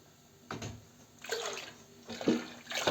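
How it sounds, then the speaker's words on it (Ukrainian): Cherry syrup for homemade cherry wine being poured into juice and stirred, heard as a few separate soft splashes and swishes of liquid at close range. "Уливаємо оцей сік і перемішуємо."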